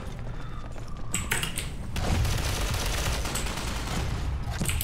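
Rapid bursts of gunfire from Ghost Recon Online fill the scene, starting sparser and swelling into a heavy, continuous volley, with some mechanical clatter mixed in and no voices.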